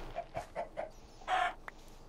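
A Minecraft chicken gives a quick run of four soft clucks, then a louder, longer squawk and one short final cluck, all close and clear with no talking.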